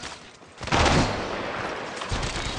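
Rapid bursts of automatic gunfire from enemies in the Apex Legends Mobile video game, a loud dense volley starting abruptly and continuing as sustained rattling shots with a slight tail of echo.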